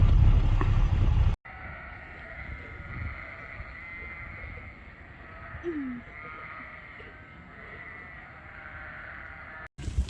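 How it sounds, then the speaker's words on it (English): A single faint bleat rises briefly over a steady engine-like drone, with wind noise cutting in at the start and end. "Sheep are very easy to work with at the moment."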